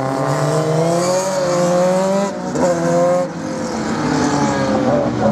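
A GPH single-seater race car at a slalom event in Lessay, 2024, revs hard and close, its engine note rising and falling through gear changes, loud and alone.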